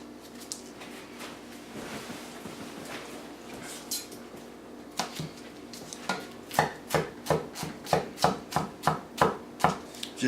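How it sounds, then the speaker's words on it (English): Knife slicing vegetables on a cutting board for sweet and sour pork, starting with soft scattered cuts and building into a quick, regular series of sharp, close chops. "We're just gonna slice this up a little bit."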